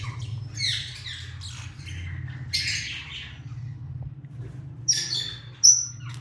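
A red opaline parrot, a breeder male, lets out a string of sharp squawks and chirps over a low steady hum, ending in a loud close call.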